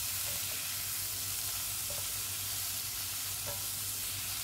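Frozen green peas stir-frying in a pan give a constant broadband sizzle. A few faint spatula taps against the pan sit under it, fairly quiet and with no voices.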